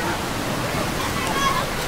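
Clear, cold water flowing at a pool, a dense, continuous rushing wash heard close and loud, steady throughout with no talk over it.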